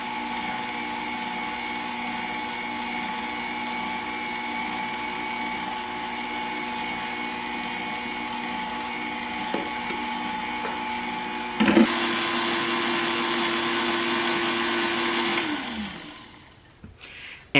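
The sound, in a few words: electric mixer mixing eggs for pound cake batter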